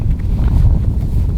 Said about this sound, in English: the wind is coming at my face